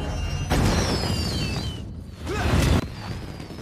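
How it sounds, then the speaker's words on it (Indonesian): A big firecracker blast set off when a container full of firecrackers is dropped in a Teenage Mutant Ninja Turtles film, a loud booming burst with a whooshing rush that rises again near the end, alone with no voices. "muncullah sebuah ledakan petasan yang meramaikan seluruh kota"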